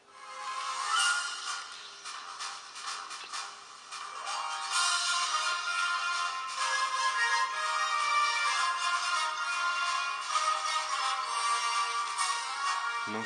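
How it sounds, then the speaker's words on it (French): A smartphone loudspeaker plays bright, thin music steadily for over ten seconds, tinny with no low end, with moderate loudness and no talking over it. "Je vais en profiter pour vous faire écouter un peu le son du téléphone."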